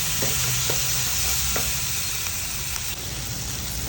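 Turmeric powder is stirred into a dry fish amsol frying in a pan, a loud continuous sizzle with a few spoon scrapes and knocks cutting through it.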